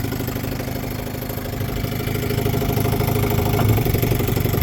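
A 1960 Johnson 5.5 hp outboard motor idles steadily at low throttle, a close, continuous low putter with a light mechanical clatter that swells slightly toward the end, with no voices.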